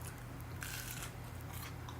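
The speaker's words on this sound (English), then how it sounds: "let's try just a little corn dog bite" A crunchy air-fried corn dog bite, made with a moist, juicy batter mixture, is bitten into once up close, with a short crisp crunch over a steady background hum.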